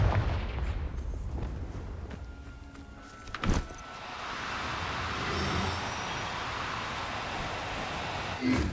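A Confringo blasting spell explodes in the Hogwarts Legacy video game, a sharp loud blast midway through followed by a rumbling, hissing wash of noise over a steady ambient bed.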